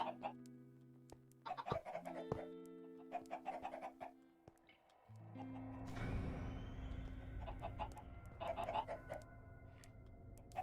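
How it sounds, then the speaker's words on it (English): Several chickens cluck in the Minecraft Stoneblock 2 modpack, with repeated short clucks in bursts, then a denser stretch of overlapping game sounds, and no talking. "I've got a lot of googy chickens."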